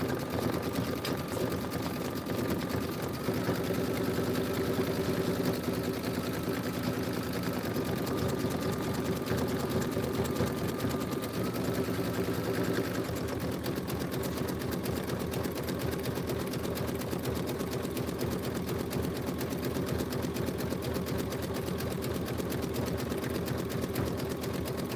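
An embroidery sewing machine stitches out a Kimberbell quilt tile, a steady rapid mechanical whirring and ticking that runs without pause for the whole stretch at moderate volume.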